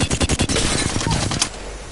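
Rapid automatic gunfire from a video game gun rattles out in a loud, dense burst, then cuts off abruptly and leaves a short quiet tail.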